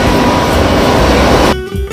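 Train running from Zurich to Paris past the Basel border station, a loud close rushing rumble of the carriage in motion that cuts abruptly to quieter interior sound near the end, no speech.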